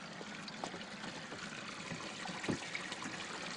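Steady outdoor water running and trickling, a continuous wash of noise with a brief splash near the middle.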